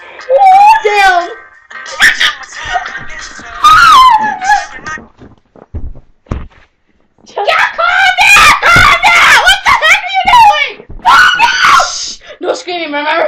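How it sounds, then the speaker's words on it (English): Loud, shrill screaming bursts, several long rising and falling shrieks with gasps between them, close and intense, with a brief quiet pause midway. "No screaming, remember?"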